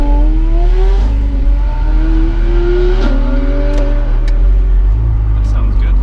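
A Porsche 911 GT3 RS with a newly fitted exhaust accelerates hard at a classic car meet, its loud engine note climbing steadily through the gears with clear upshifts, close by and continuous.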